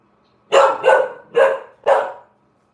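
Four quick barks from a nearby dog, loud and evenly spaced, with quiet before and after.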